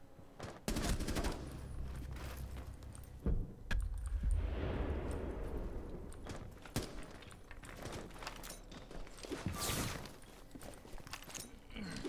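Gunfire in the tactical shooter Tom Clancy's Rainbow Six Siege, with sharp shots and short bursts scattered among footsteps and bumps, fairly quiet.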